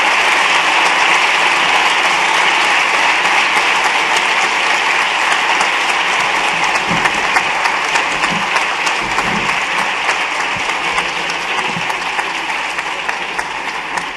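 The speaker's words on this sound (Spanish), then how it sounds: "voy a pedir un fuerte aplauso para Eduard Punset y Pedro J." A large audience at a talk gives strong, sustained applause to the speakers, a dense and steady patter of clapping that carries on unbroken and fades slightly near the end.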